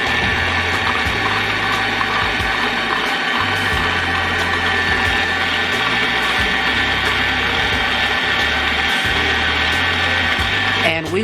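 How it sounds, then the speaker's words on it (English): An electric mixer creams butter and sugar for a strawberry cream cheese pound cake, running as a steady, loud, continuous whir throughout with shifting low motor tones and no talking. "we will mix this until it is light and fluffy, stopping frequently throughout the process to scrape down the side of your bowl"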